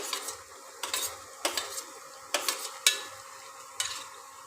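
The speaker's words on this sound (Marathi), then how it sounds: "चिरलेल्या बारीक करून घेतलेल्या मिरच्या घालायच्या आहे" Chopped green chillies tumble into a hot pan for restaurant-style cabbage manchurian, then a spoon scrapes and stirs in repeated short clatters over a soft sizzle, close and fairly quiet.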